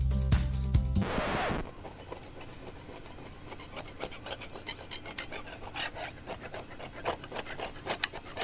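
Scraping along a small sailboat hull being cleaned for antifouling paint, a steady run of short rasping strokes after a brief loud burst at the start, close by with no talk.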